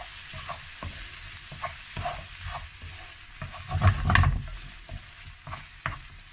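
Fried rice sizzles in a hot pan after soy sauce is added around the edges, with a steady crackle, scraping stirs and a louder hissing burst partway through.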